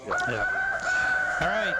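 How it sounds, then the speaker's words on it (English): A rooster crows loudly and close by at a high school, a long sustained call running through the whole clip while someone speaks over it briefly. "There's a rooster crowing"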